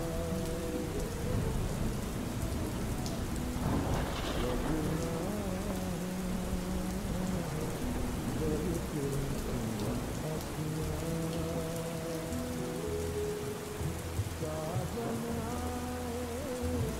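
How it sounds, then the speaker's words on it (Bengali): Steady rainfall pattering on a surface, a dense constant wash with an occasional low rumble, layered under soft melodic music. "অমিত লাবণ্যর ছাদের এক কোণে দাঁড়িয়ে বৃষ্টি দেখতে লাগলো।"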